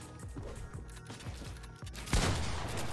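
Rapid gunshots in a Fortnite-style box fight game, several quick shots over building and editing clicks, with one louder close burst near the end.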